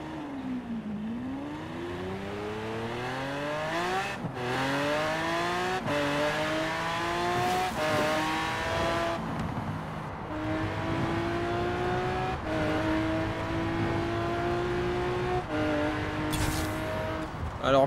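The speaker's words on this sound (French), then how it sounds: "elle fait vraiment un bruit un peu comme la Ventador en fait" Lamborghini hypercar engine in the racing game Forza Horizon 4, likened to an Aventador, revs loudly and continuously through repeated rising sweeps as it climbs through the gears, with brief drops at each shift.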